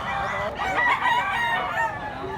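A gamecock of Sims bloodline at a Cebu market crows nearby in a long, loud, wavering call, with people chatting faintly around it.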